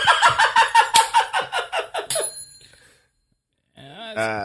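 A rapid series of bright bell rings, about ten quick strikes, trails off into silence before a short tonal sound follows.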